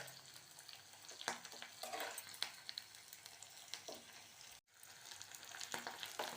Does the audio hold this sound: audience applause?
no